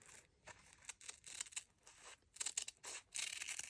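Scissors snip through ribbon for a framed pocket bow craft, giving soft, close, crisp cutting and rustling sounds in quick irregular bursts at low volume.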